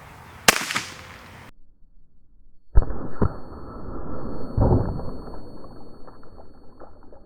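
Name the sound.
airgun shots blowing up targets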